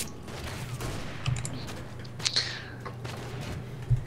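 Gunfire in the World War I shooter Verdun 1914-1918, with scattered sniper shots cracking at a distance over a low battlefield rumble, plus a few sharper reports and no talk.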